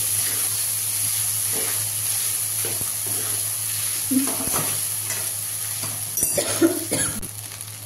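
Veg Hakka noodles being stir-fried in a pan, a steady close sizzle with scraping stirs and a few clinks of utensil against metal, plus a cough near the end.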